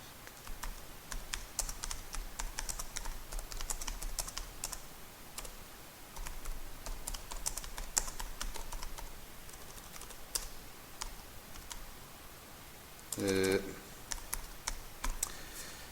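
Steady typing on a computer keyboard while entering text into business management software, a dense run of quick key clicks throughout, with one louder burst near the end.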